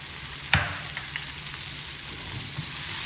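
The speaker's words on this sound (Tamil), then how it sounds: "இப்போ பட்டர் உரிச்சு நம்ம ஒரு பாதி வெங்காயம் போடுறோம்" Half an onion hits melted butter in a pan for a mushroom stir fry, starting with a sharp clatter and burst of crackle, then settling into a steady close sizzle with occasional stirring scrapes.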